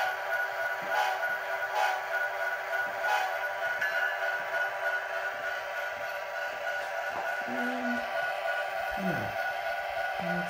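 A short horn from an HO scale Bachmann NS heritage-unit model locomotive sounds over steady sound-unit hiss, with faint brief clicks and soft handling noises scattered through the stretch.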